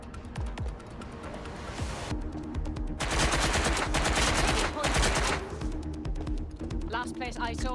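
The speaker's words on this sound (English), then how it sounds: "Gunfire!" Gunfire in the video game Watch Dogs Legion, rapid bursts of shots in dense clusters amid game effects and a voice talking over the action.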